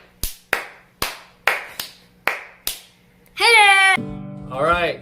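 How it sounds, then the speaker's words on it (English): Seven sharp, separate claps ring out close by in an uneven rhythm, like children clapping along to a song, followed by a shrill voice and then a lower one speaking. "Who is ready to clap?"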